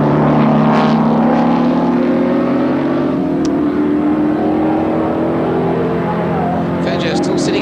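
Racing cars at the 1978 Australian Grand Prix climbing toward Rothman's Rise, engines droning and rising steadily in pitch as they accelerate, loud and continuous beneath a commentator talking.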